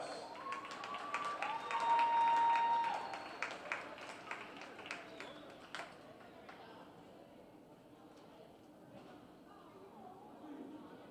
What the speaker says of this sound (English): one more round of applause to Tabor College 2019 senior volleyball class